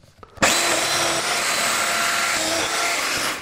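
A Domino joiner milling mortises into a wood frame for a miter saw table starts abruptly after a brief moment of quiet, then holds a loud, steady high whine before it eases off at the end.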